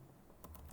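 A few quick keystrokes on a computer keyboard while typing a label into QGIS mapping software, close and brief in a quiet room.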